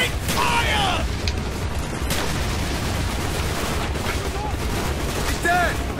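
Gunfire from the Call of Duty: Black Ops campaign, with a dense, loud barrage of shots and booms. A short burst of radio-like chatter cuts through the firing.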